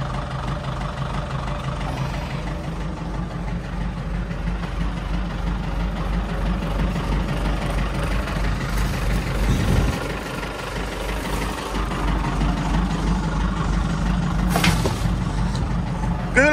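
A cold Valmet tractor diesel engine idling with an uneven, hammering beat, a steady low rumble heard close up for the whole stretch, with a brief dip midway and a short higher hiss near the end.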